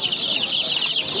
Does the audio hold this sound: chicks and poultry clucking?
yes